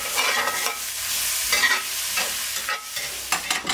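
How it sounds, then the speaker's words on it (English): Finely chopped white onions fry in a pan over fairly high heat, giving a steady close sizzle broken by the scrape and clatter of stirring, with no voices. "And then we're just going to fry our onions for about 5 minutes until they start to soften."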